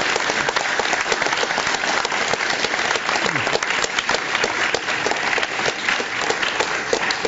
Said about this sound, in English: Let's give a big round of applause for Mr. Steve Jobs.